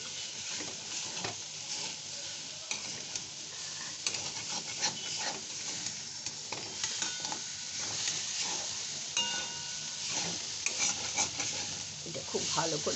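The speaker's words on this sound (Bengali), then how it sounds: "এই মশলা দিয়ে এবার এটা একটু কষে নিতে হবে" Cumin, turmeric, chilli and coriander powders with a little salt are stirred and sautéed in a pan, giving a steady close sizzle under continuous scraping and stirring for the whole stretch, with no talk.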